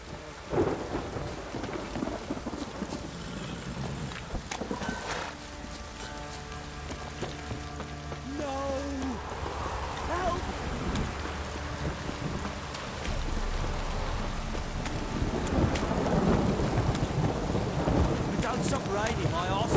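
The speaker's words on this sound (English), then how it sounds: "This downpour's a bastard" Heavy rain pours down in a thunderstorm in The Witcher 3, with deep rolling thunder rumbling through a steady, dense hiss of rainfall that swells louder toward the end.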